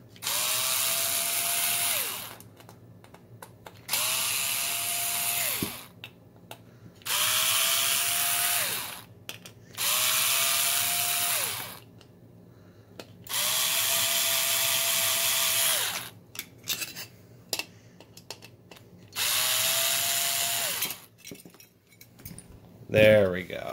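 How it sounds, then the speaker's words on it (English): A power screwdriver backs screws out of a laser projector casing, whirring in repeated bursts of about two seconds separated by short pauses, loud and close, with a few handling clicks between. "I guess I'm undoing all these screws then."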